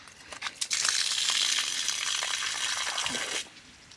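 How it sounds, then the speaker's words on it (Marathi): Water is released into a farm field, rushing and gushing steadily for a few seconds at moderate loudness before cutting off abruptly. "अशा प्रकारे शेतात पाणी सोडलं जातं"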